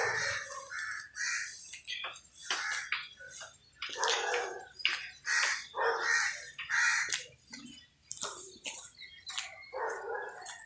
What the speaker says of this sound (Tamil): காக்கா சவுண்டு தான் கேட்குது